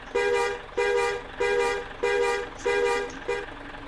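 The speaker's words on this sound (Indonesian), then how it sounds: "Klakson setir." Steering-wheel horn of a Hino RK bus in Bus Simulator Indonesia, sounding six short, evenly repeated toots in a quick rhythm, loud and close, with no voices.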